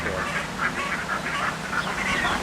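Runner ducks at the Dawlish Waterfowl Centre keep up a chorus of nasal quacks in quick irregular bursts, fairly close, over a steady outdoor background hiss.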